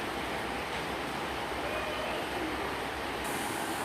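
Train 15232 departs Exeter St Davids for Paignton, heard as a steady broadband rumble of rolling wheels and rail noise, moderately distant and continuous.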